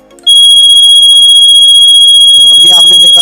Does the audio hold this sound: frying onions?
no